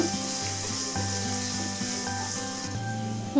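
Onions sauté in a pan for hotel-style mint chutney, a dense, steady sizzle with a few soft scraping stirs and a low background hum, no talk.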